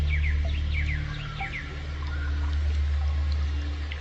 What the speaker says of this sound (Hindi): चिड़ियों की चहचहाट भी सुनाई दे रही है आपको।